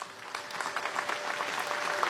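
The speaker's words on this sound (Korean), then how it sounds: "모두 큰 박수로 맞이해 주시기 바랍니다" Audience applause greets the entrance of archival items at a National Assembly Constitution Day ceremony, a steady dense clapping that fills the hall without a break.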